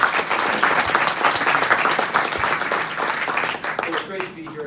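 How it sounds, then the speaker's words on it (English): An audience at a childhood cancer summit applauds loudly, dense sustained clapping filling the room for several seconds before thinning out near the end. "they deserve a big round of applause"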